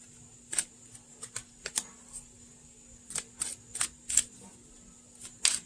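Quick, crisp riffling bursts of cards being shuffled, arriving in irregular clusters of clicks up close with no talking.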